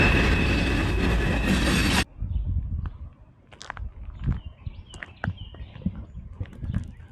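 A freight train with graffiti-covered cars rolls past in West Virginia: a loud broadband roar that cuts off abruptly, followed by quieter rattling, clanks and squeaks of the wagons moving by.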